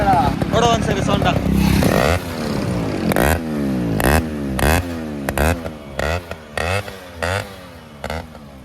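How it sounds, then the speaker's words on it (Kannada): A Suzuki Samurai two-stroke motorcycle engine revs hard, with rising and falling whines between sharp throttle blips and bursts, close and loud, as a voice talks over parts of it. "ನಮ್ಮ ಫಾಲೋವರ್ಸ್ದು ಸುಜುಕಿ ಸಮುರಾಯಿ ಓಡ್ಸಾನೆ ಇವಾಗ"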